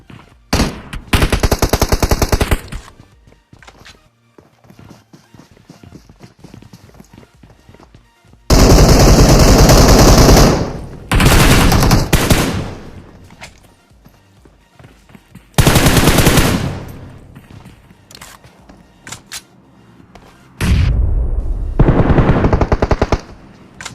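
Bursts of AKM rifle fire in the mobile battle game PUBG Mobile, loud rapid automatic volleys in several separate strings of a second or two each, with quiet gaps between them.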